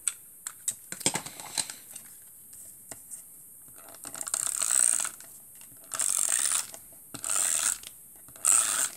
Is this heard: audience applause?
no